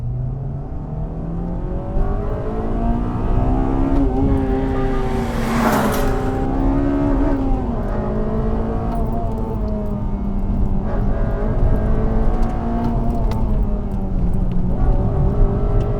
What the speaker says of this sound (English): just the dramatic kick of VTEC really does make this drive a bit exciting on the right country lane